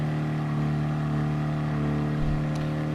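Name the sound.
Fiat 500 engine accelerating in Gran Turismo Sport video game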